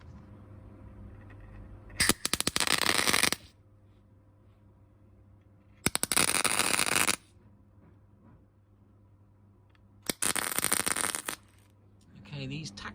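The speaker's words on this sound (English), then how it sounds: "we're just going to tack weld it here and here to see if we can hold it in place" Three loud tack-weld bursts, each a crackling one-second arc, spaced a few seconds apart while a Mercedes R107 SL battery tray bracket is clamped in place, with a low hum and faint talk between them.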